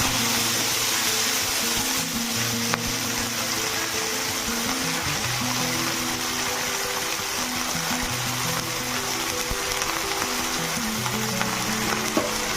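Broad beans (sheem) frying in hot oil for a simba aloo curry, a loud steady sizzle and crackle that runs unbroken throughout, with no voices.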